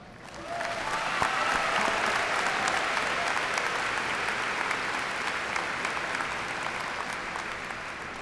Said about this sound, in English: I ask that you join me in a round of applause to thank them and celebrate their legacy